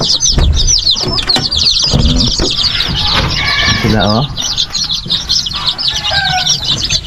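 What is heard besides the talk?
chicken chicks clucking and flapping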